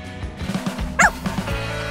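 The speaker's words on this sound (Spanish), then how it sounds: "Igor, me apetece jugar con tu perrita." A small female dog gives a few quick, sharp yips and barks at close range, one louder high bark standing out in the middle.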